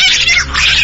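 A cat yowls in an old-time radio mystery drama, a loud, close, drawn-out wavering meow lasting under a second, heard alone.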